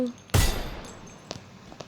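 One sharp close gunshot fires from the shoot button in a mobile shooter game, followed by faint clicks and small taps. No one talks over it.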